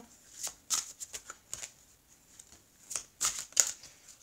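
Tarot cards being shuffled by hand before a reading, a series of quick, crisp riffling bursts in irregular clusters, close and clear with no talking.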